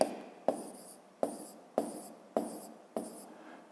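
Pen or chalk writing numbers by hand during a fifth-grade maths exercise, heard as six short scratchy strokes spaced about half a second apart, close and fairly quiet with no talk.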